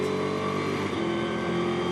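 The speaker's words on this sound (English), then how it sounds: "As we ride on board down the hill into the Hislop chicane, hard on the brakes and round the outside of James Nicholas like" Onboard a Ginetta GT race car at Oulton Park, heading downhill and braking hard into the Hislop chicane, the engine drones loud and steady throughout, with no voices.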